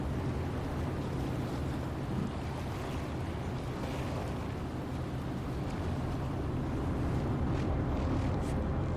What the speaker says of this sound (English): those waves are getting bigger here